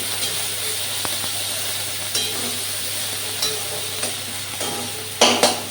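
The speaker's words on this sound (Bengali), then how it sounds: "রসুনটা ফাটিয়ে নিই" Garlic frying in a pan with a steady hiss and crackle, stirred now and then with a few sharper scrapes and clicks near the end.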